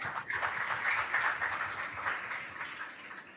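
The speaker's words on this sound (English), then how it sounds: "Give them a round of applause as well." An audience at a school quiz contest claps for a competing team, steady, moderately quiet applause from a crowd in a hall, fading slightly toward the end.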